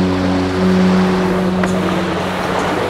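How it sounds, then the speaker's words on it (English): Calm natural ambience blended with soft musical elements, designed as a soothing soundscape for hospital patients in bed; a steady, continuous wash with sustained low tonal drones, moderately loud and without speech. "we can use natural sound with some musical elements"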